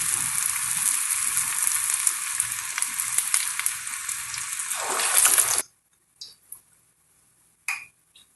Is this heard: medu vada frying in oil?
yes